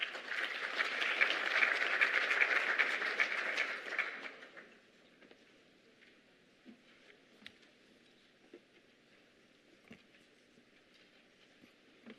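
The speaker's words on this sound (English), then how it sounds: "A round of applause for him, please" Symposium audience at a National Treasury climate resilience event applauding a speaker: a dense burst of clapping for about four seconds that fades into a quiet room with small scattered sounds.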